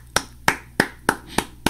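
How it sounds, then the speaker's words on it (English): Six sharp hand claps at a steady, unhurried pace, close and clear, with silence between each. "I'm going to go ahead and clap for that."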